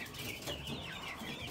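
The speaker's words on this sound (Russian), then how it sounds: "Вот курочка стоит." A small bantam hen clucking softly nearby in a backyard coop, a few short low calls running together in a quiet, continuous murmur with no talk.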